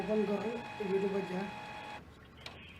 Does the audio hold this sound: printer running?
yes